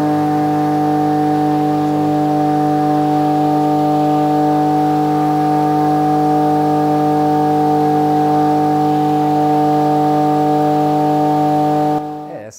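A Keppe motor spins fan blades in a steady, loud, continuous hum with strong even tones and no pauses, cutting off abruptly at the very end.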